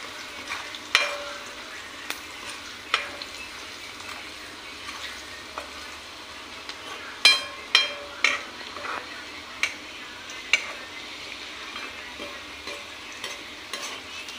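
Dal being fried and stirred in a pan, giving a steady soft sizzle with repeated scraping and clinking strokes of a spoon against the pan, fairly close and with no talk.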